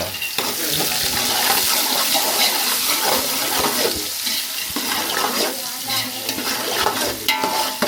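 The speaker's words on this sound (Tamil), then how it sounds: "நல்லா தேங்காய் எண்ணெய் காஞ்சோடனே பட்டை லவங்கம் ஏலக்காய் எல்லாத்தையும் போட்டு அடுத்து வெங்காயம் கருவேப்பிலை போட்டு ஒரு வதக்கு வதக்கி" Onions and curry leaves frying in hot coconut oil with cinnamon, cloves and cardamom, stirred in a pan for coconut milk rice and chicken curry; a loud, steady sizzle with scraping stir strokes throughout.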